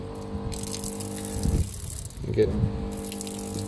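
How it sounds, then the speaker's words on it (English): An on-board water pump in a BASHA Gen 1, with its flow slightly restricted, runs with a steady motor hum and rushing water, while someone talks over it nearby. "so it's still pumping pretty good even though it's slightly restricted"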